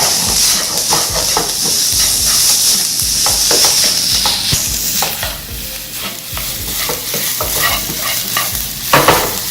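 Combination fried rice is stir-fried in a wok with continuous loud sizzling and hiss, punctuated by the repeated scrape and clatter of a spatula tossing the grains, close up and with no talking.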